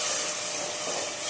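Loach fish frying in hot oil, giving a loud, steady sizzling hiss close up.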